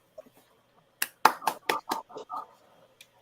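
A single person claps several times in a quick, slightly uneven burst lasting about a second and a half, fairly close and crisp, with a few faint stray taps before and after in an otherwise quiet room.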